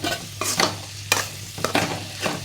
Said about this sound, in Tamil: நம்ம ஒன்று ஒன்றா போட்டு வதக்குறோம்.